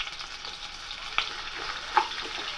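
Onions frying in a tempering of cumin, mustard seeds and chili, a steady close sizzle with a couple of sharp spatula clinks and scrapes as they are stirred.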